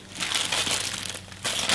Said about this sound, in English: And it comes packaged in a plastic bag